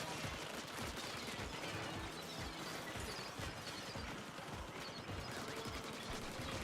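Automated fire sentry turrets in Splatoon Raiders keep up rapid, clattering fire, a dense stream of quick pops running the whole time at a fairly low level, with no talk.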